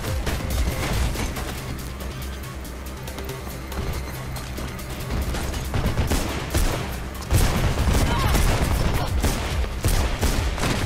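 Dense, rapid gunfire rattles through a Mirror's Edge firefight, loud and continuous bursts with a heavier surge near the end, no talking.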